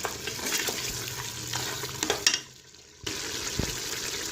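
Masala for mutton paya roasts in a pan with a close, bubbling sizzle and stirring sounds. It drops briefly to near quiet before the frying noise comes back.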